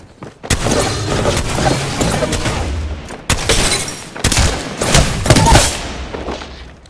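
Heavy, sustained gunfire and booming blasts in a battle royale video game, loud continuous volleys broken by brief gaps, close and dense.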